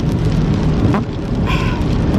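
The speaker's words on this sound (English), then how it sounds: "It's like a beautiful rainy day." Rain patters steadily on a car while driving on a rainy day, a dense continuous hiss with road rumble underneath.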